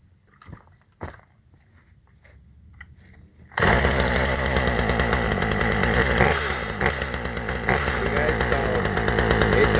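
A 1993 Sears Craftsman riding mower engine, started without the choke, bursts into life after a few quiet seconds with faint knocks, then runs loud and rough with a throbbing, uneven drone to the end.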